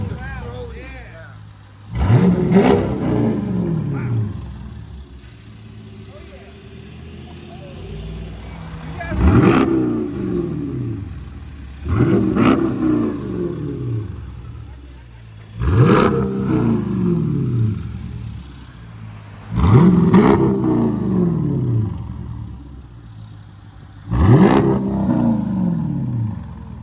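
A Dodge Durango R/T with a 5.7L HEMI V8 and X-pipe exhaust revs six times in spaced bursts, each a deep, throaty roar that climbs sharply and then falls back to a low idle rumble.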